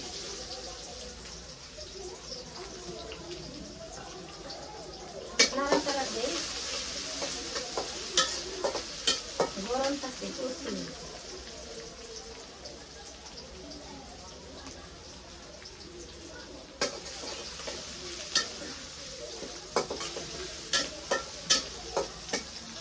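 Cinnamon, chopped onion and chopped garlic sizzle in hot oil in a heated pan, a steady loud frying hiss with occasional bursts of stirring and spatter, and a voice talking now and then.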